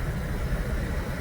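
Steady low rumble and wind wash from a car driving with the windows down, a constant broadband roar with no breaks.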